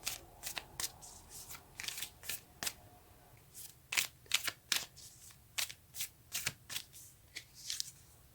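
Close, quiet riffles and snapping flicks come from a deck of tarot cards being shuffled, a brisk irregular patter of sharp card slaps with no voice over it.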